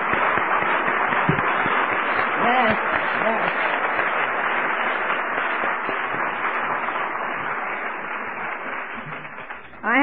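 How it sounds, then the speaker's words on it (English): Sustained, dense applause from a large audience at an Alcoholics Anonymous convention in Tampa, Florida, filling the hall for the whole stretch while a voice briefly calls out over it. "How about let's give them a round of applause?"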